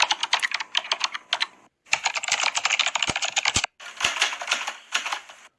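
Rapid keyboard typing in three bursts separated by brief pauses, crisp and close, with no voices.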